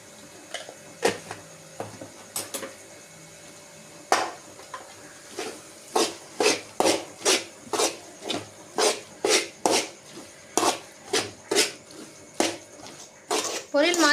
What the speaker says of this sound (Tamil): பொரியல் மாதிரி வர வரைக்கும் நல்லா வதக்கிட்டே இருங்க